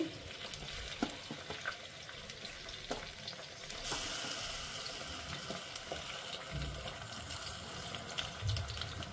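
Eggplants frying in hot oil in a pan for an Andhra-style stuffed eggplant curry, a steady soft sizzle with occasional scraping stir clicks, close and moderately quiet throughout, with no talking.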